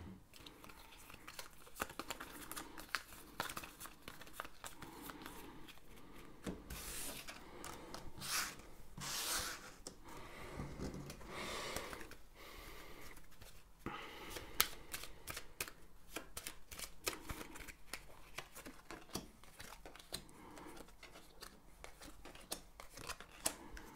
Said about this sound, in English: shuffle the cards up, and we'll come back.